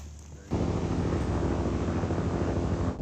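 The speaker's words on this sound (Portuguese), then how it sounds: "Tem um helicóptero voando ali em cima." A helicopter flies overhead in remote mountains, its deep, steady rumbling whir rising suddenly and holding loud throughout, with no talk.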